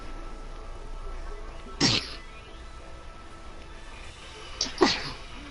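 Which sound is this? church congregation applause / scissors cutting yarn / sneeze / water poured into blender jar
sneeze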